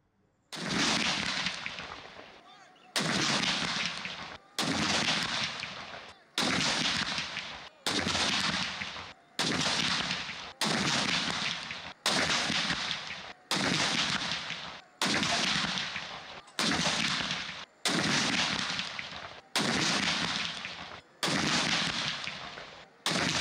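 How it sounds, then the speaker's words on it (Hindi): A Pakistan Army contingent fires a 21-gun cannon salute at a Lahore garrison on 12 Rabi ul Awwal: heavy booming shots, each with a long rolling decay, repeat at a steady pace of about one every one and a half seconds. "पाक फौज के चाकू चौबंद दस्ते ने 21 तोपों की सलामी दी"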